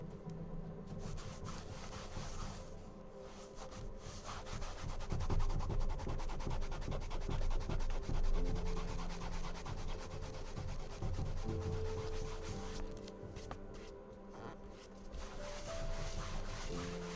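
A hand rubbing across a wood surface gives a steady, scratchy, sanding-like friction that runs close and continuous, with slight swells in strength and a few brief lighter moments.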